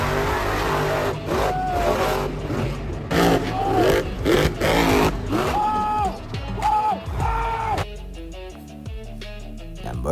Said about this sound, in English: Moving like a lightning bolt, Blue Thunder tears across the track at electrifying speeds